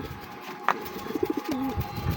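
A pigeon coos in a short, soft warbling phrase close by, with a brief higher call just before it over steady low background noise; no voices.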